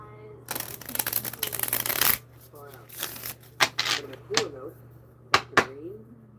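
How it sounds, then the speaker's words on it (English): A small tarot card deck is shuffled by hand in a fast, papery riffle burst, followed by scattered softer card taps and shuffles while someone talks. "I like this deck because it's small. Like, I can shuffle it good."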